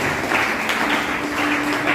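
Audience applause inside a church, a steady dense patter of clapping throughout, moderately loud, with a faint sustained tone running beneath.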